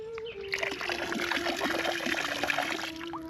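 Water from a roadside spring in Turkey trickles and splashes steadily, close and continuous, with a faint tonal hum underneath.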